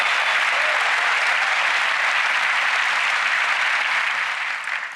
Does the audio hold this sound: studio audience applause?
yes